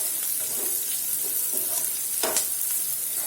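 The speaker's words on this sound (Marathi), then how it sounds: "आता याच्यात आपण हळद टाकून घेऊया आणि हळद पण छान एकजीव करून घ्या" Onions fry in a pan while turmeric is stirred through them, a continuous loud sizzle broken by scraping strokes of a spoon, with one sharper scrape near the end.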